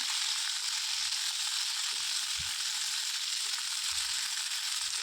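Potato and cauliflower fry in a pan, a dense, loud, continuous sizzle close by with occasional soft low knocks from stirring, no talking.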